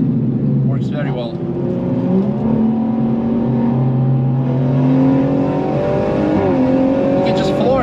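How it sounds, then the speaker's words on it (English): A 450-horsepower BMW M140i xDrive engine revs hard and climbs in pitch as the car is floored out of a corner, loud and close, with a voice talking over it. "You can just floor it and out of the corner."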